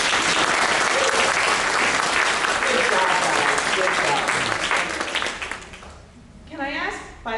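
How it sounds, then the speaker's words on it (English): Audience at a township trustees candidates night applauding, dense sustained clapping for about six seconds that fades out, followed by a voice speaking. "So I think we need to give them an applause for doing this."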